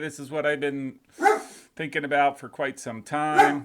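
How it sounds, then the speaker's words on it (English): A dog barks indoors in short bursts mixed in with steady nearby male speech, the barks partly masked by the talking. "so if you hear the barking, I apologize"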